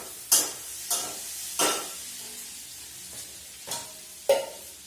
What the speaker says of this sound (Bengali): আর এখানে দেখো আমি আলু তরকারি করছি।